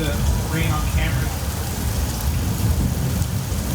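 Artificial rain and thunder from a flash flood effect on a Universal Studios Hollywood studio tour: a steady, loud roar of pouring water fills the whole stretch, with a few brief higher tones near the start.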